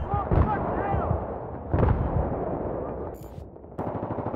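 Gunfire in a multiplayer shooter video game, sharp repeated shots and bursts under a player's excited voice calling out during the match.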